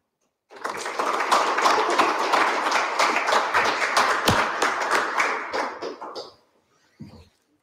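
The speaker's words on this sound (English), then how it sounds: "we'll take that as applause for both of our speakers" An audience at a talk on the economics of large dams applauds for the speakers, a dense burst of clapping about six seconds long that fades out, followed by a single stray clap.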